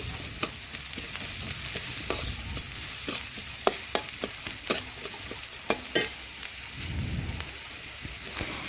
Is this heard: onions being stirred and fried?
yes